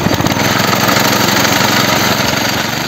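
An engine-driven vibrating potato digger runs on test, shaking hard. It makes a loud, close, continuous rattling engine drone with a rapid pulsing vibration and no talk.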